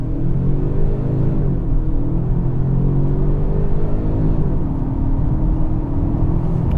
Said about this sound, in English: We're going to try a quick little launch control.